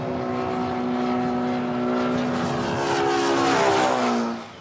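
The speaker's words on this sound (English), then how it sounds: "The plane produces sound waves. When it travels towards us, the waves bunch closer together, changing frequency and creating a higher-pitched sound." A propeller airplane passes overhead, its droning engine tone steady and then sliding noticeably lower in pitch as it swells louder and fades away, heard alone without talk.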